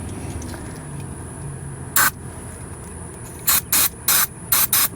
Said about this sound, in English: I've been using this spray trailer hitch gel lube